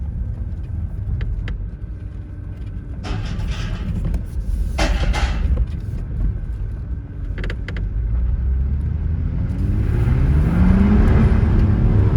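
A car driving steadily, engine and road noise humming throughout, with a few brief rattles and the engine rising in pitch toward the end.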